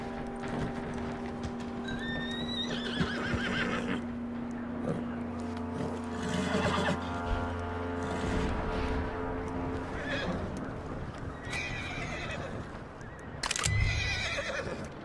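A horse whinnies loudly a few times in Red Dead Redemption 2 over a steady low background hum and ambient game noise, with a brief hoof clatter near the end.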